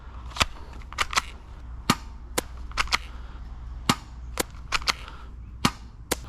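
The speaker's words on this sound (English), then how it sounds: "Wow, this guy is extremely good for a spring airsoft gun." A cheap spring-powered airsoft pistol fires at targets in sharp, snappy cracks, about a dozen irregularly spaced shots close to the mic over a quiet background.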